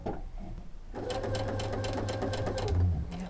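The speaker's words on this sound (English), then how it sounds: "And we're only going to stitch just a little bit at a time." A sewing machine stitches a child's fleece infinity scarf tube in short bursts, its rapid mechanical whir starting after a brief quiet moment and running steadily, close and clear.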